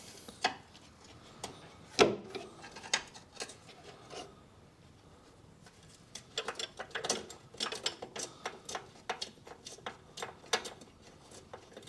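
A ratchet undoing a single 8mm bolt in the engine bay of a 2007 Ford Fiesta 1.6 petrol, with close, quick clicking bursts and rubbing metallic handling noises, no talking.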